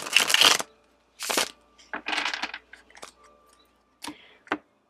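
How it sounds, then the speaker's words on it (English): Tarot cards being shuffled by hand in several quick riffling bursts, close and crisp, separated by short pauses. "just so you guys can see me shuffle on camera as well"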